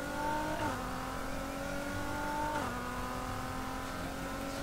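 A Mitsubishi car engine in Need for Speed Heat revs and holds steady at a moderate level, with a couple of gear-shift pitch drops partway through and no voices over it.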